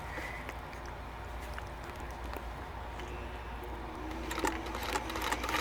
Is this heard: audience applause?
no